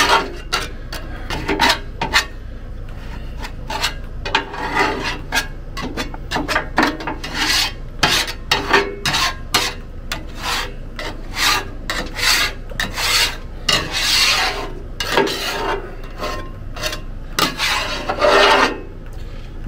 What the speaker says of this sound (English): No matter how much you scrape it, it's still there.